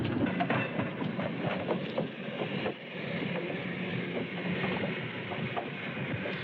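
Key System electric interurban train running along East 14th Street, a continuous loud rolling rumble and rattle heard from on board, with a brief dip midway and no talking.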